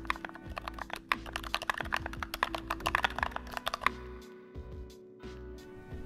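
Rapid typing on a mechanical keyboard fitted with Light Wave V2 switches, case dampening and tall ABS keycaps: a dense, steady run of close, crisp clacks that thins into a few scattered keystrokes near the end.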